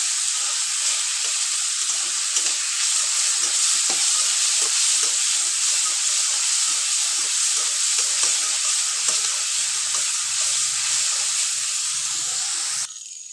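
Chopped onion and dried red chillies frying in oil in a pan for Bengali mochar chop, giving a loud, steady, close sizzle with faint crackles that stops abruptly at the end.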